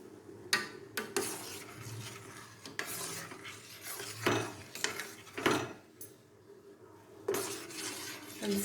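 Tea stirred in a pot on low heat, irregular scraping and clinking of a spoon against the metal at close range, with short bursts and quiet gaps between strokes.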